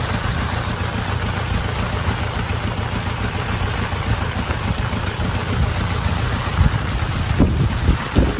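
Stormy wind roars over the sea off Ratnagiri in a constant loud rush during heavy rain, with waves churning and gusts battering the microphone.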